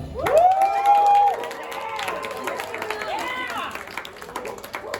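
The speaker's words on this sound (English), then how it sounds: "Then I want you to clap and cheer like crazy." A live audience erupts in cheering and clapping, led by a sustained high whoop and overlapping shouts, then settles into steady applause with scattered yells for several seconds.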